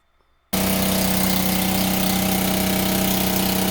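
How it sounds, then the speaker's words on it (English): After a brief quiet moment, a 1977 Honda Trail 70 (CT70) motorcycle engine suddenly catches and settles into a loud, steady idle with a constant low putter. "here's the actual vid of the first time I got to start this motorcycle"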